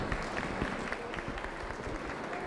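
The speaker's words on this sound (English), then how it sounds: "Let's give those 4 kids a big round of applause." Audience applause at a youth fair market hog show, steady clapping from a crowd filling the space throughout, moderately loud with no talk over it.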